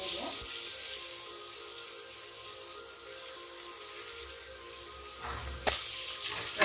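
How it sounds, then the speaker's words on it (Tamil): Onions sautéing in a pan during porridge preparation, a soft steady sizzle throughout, then a louder burst of stirring and clatter near the end. "வெங்காயத்தை சேர்த்து நல்லா வதக்கிடுங்க."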